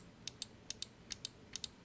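Small plastic clicks from the side buttons of a Glorious Model I gaming mouse, four quick pairs of press-and-release snaps, evenly spaced, close and crisp against a quiet background.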